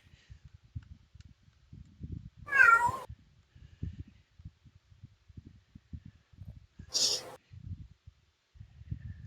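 A house cat meows for attention twice, several seconds apart, each call clear and fairly close, with faint low knocks and rustling in between.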